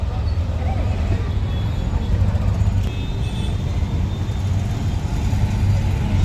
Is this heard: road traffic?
yes